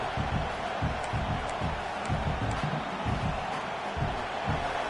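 Stadium crowd roar in the College Football 26 video game, a loud continuous wash of noise with rhythmic low thumping like chanting or stomping, steady throughout.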